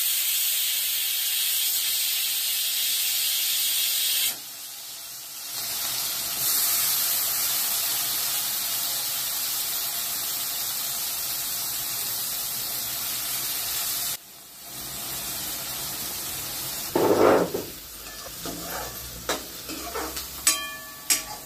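Chopped onion for pav bhaji hitting hot oil in a home kitchen pan, giving a loud, steady broadband sizzle and hiss that drops briefly twice, then stirring scrapes and clinks near the end.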